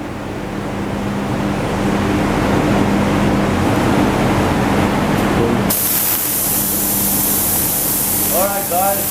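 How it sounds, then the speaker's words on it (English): A mini spray gun sprays lacquer during a cheap DIY smart repair, a steady hissing spray rising sharply partway through over a continuous low hum, with faint chirping near the end. "here's the part where some lacquer goes on"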